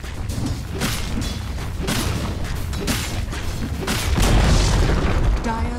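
A Dota 2 tower being destroyed: booming, crashing blasts and rumbling impacts in a loud, busy game battle, with a game announcer voice heard over the mix.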